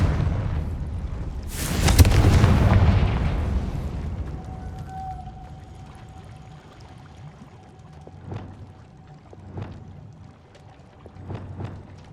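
Confringo spell cast in Hogwarts Legacy: a single loud, roaring blast swells and fades over a couple of seconds, followed by quieter scattered thuds and a faint tone in the background.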